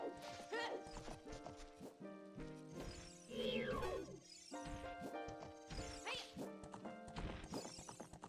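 Horse hooves clip-clopping in The Legend of Zelda: Ocarina of Time Randomizer, rhythmic galloping over game music, with a brief neigh and a crashing hit in the middle.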